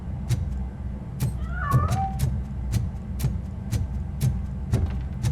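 A cat in the video game Robocop: Rogue City gives a short, clear meow in the middle of the clip, with a steady rhythmic ticking and a low hum behind it. No one speaks.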